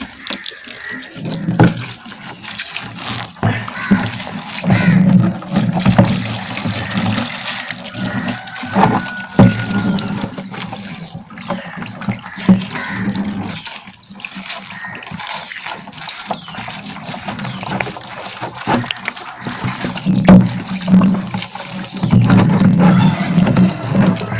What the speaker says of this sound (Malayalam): അപ്പോൾ ഇത് ഇതാ ഏകദേശം കഴുകി നല്ല വൃത്തിയായിട്ടുണ്ട്